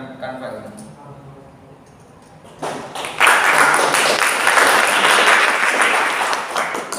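Applause from an audience in a classroom lesson swells after a spoken request and turns into sustained, fairly loud clapping that lasts to the end.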